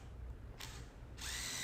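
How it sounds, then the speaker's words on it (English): A power drill pre-drills into the boards of a wooden patio table, with two short whirring bursts close by, the second one longer and rising in pitch. "here I'm just pre-drilling everything so that I can put in the additional screw"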